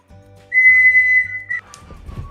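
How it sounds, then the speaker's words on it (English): A homemade whistle carved from elder wood gives one clear, sustained high tone for about a second, close and fairly loud over soft low background noise, then cuts off sharply. "our elder whistles"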